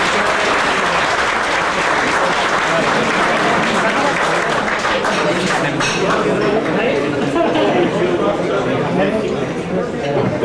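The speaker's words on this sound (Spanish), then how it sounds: "quien pide un caluroso aplauso." Audience applause at a breakfast gathering, a dense, loud, continuous clapping from a roomful of people that holds steady throughout and tapers slightly at the very end.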